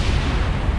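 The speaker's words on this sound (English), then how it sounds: "That explosion was our parts finally hitting the ground." A short, loud, low booming blast as rocket parts crash into the ground and explode in Kerbal Space Program, a single dense rumble with no talk.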